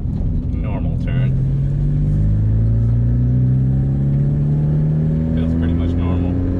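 A 1998 Honda Civic taking a normal turn, its steady engine hum and road rumble continuous and close, with the engine pitch slowly rising while someone talks over it.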